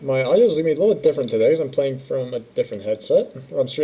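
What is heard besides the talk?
No everyday noise stands out behind the speech.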